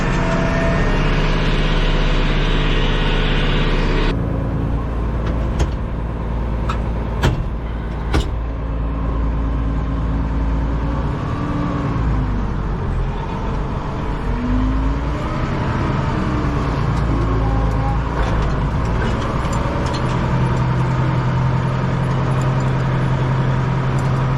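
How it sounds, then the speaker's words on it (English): A John Deere tractor backing in on a green bean planting field, its diesel engine rumbling loud and steady throughout, with brief clanks and a shift in engine tone partway through. "Let's go ahead and get this tractor backed in here."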